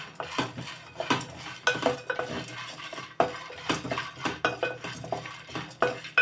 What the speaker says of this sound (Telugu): మళ్ళీ ఇప్పుడు ఇవి వేపేస్తాను ఇవి ఎండి కొబ్బరి ఇవి కూడా మనం వేపేసుకోవాలి